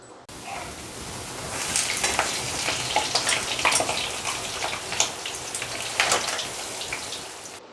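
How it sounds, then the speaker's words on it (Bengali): Steady oil sizzling and bubbling as lentil dumplings for dahi bhalle deep fry over raised heat, with crackling pops rising and falling close by. "এবার বাড়িয়ে দিলাম ভাজা হওয়ার জন্যে"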